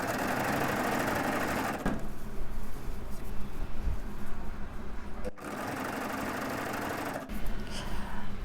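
A sewing machine stitches a hem in a steady, fast mechanical whir, running continuously with a couple of brief pauses and restarts, close and alone.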